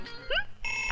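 A short electronic telephone ring, warbling tones that start and cut off within a second, fairly faint.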